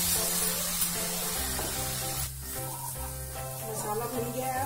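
Tomato puree masala sizzles and spatters steadily in hot oil in a pan, cooking for a vegetable curry, with intermittent stirring scrapes and a soft continuous frying hiss.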